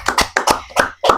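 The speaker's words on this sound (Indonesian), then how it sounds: "Tepuk tangan berikan aplaus untuk" A few people clap by hand at a small gathering, about five sharp, close claps in an uneven rhythm, loud and with no talking.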